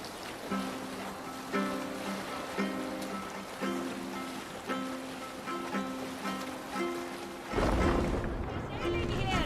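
A Viking longboat in Assassin's Creed Valhalla glides across open water, with a steady wash of waves and surf beneath rhythmic melodic music. The surge grows louder and rougher toward the end.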